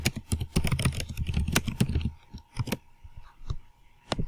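Text being typed on a computer keyboard, with a quick, close run of clicky keystrokes that thins into slower, scattered taps and a few isolated presses toward the end.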